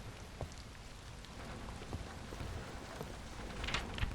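Steady, soft rain falls on a tent in a muddy camp, forming a continuous hiss with scattered faint drop taps. It stays fairly quiet throughout, and no one speaks.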